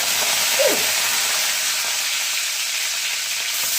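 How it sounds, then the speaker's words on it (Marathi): Curry leaves dropped into hot oil already holding cumin, mustard seeds and fried garlic give a steady, close frying sizzle that holds evenly throughout, with a brief stirring scrape near the start and no talking. "मोहरी लसूण टाकला लसूण आता तळल्यानंतर हा कढीपत्ता टाकून देतो"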